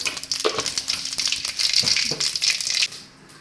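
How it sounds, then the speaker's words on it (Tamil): Mustard seeds pop and splutter in hot oil for Tamil egg curry (muttai kulambu), a close, bright crackle of quick sizzling bursts with a few louder pops, fading out at the end. "முட்டை குழம்பு பார்த்தீங்கன்னா கடுகு நல்லா பொறிஞ்சிச்சு"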